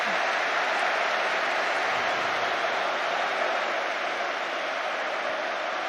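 A stadium crowd at a Tottenham versus Manchester City Premier League match roars with applause, a broad continuous wash of noise from a huge distant mass of spectators, steady and unbroken.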